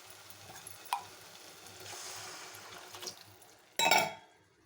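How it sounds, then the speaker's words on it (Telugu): Soft sizzling and bubbling from a pot of egg curry with drumsticks as water is added, with a couple of faint clinks and a brief louder splash of liquid near the end. "ఇప్పుడు ములక్కాయ ఉడికేలా కొద్దిగా వాటర్ వేసుకుందాం"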